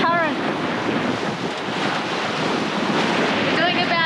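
Sea waves and strong wind rush past a sailboat as it pushes through choppy water with wind against current, a loud, continuous roar of surf and wind buffeting.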